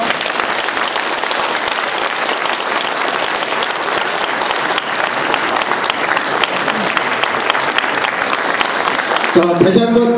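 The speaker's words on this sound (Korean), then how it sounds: "내빈들께서는 박수로 맞이해 주시기 바랍니다" Guests at a Pyeongtaek branch founding ceremony applaud steadily as a team carrying the association flag enters, dense even clapping filling the hall throughout, with a brief burst of other sound near the end.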